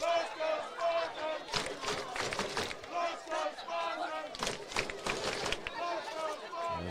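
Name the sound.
Sayre crowd cheering at a high school football game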